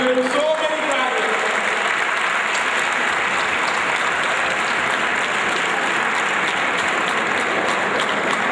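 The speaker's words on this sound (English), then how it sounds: "There should be a special clap for Humaira for securing so many prizes." Sustained audience applause at an award ceremony for high achievers, a dense, steady wash of many hands clapping from start to finish, with a brief voice at the very beginning.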